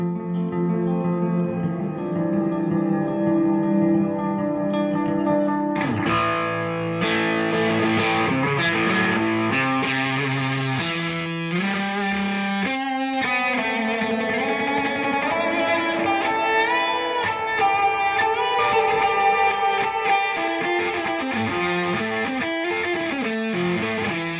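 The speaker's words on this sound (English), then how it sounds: "then I can go right into distortion" Electric guitar played through heavy distortion, thick sustained chords with a gritty, saturated edge, loud and continuous throughout with no talking.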